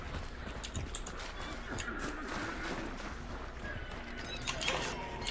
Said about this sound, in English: oh my god, horses everywhere.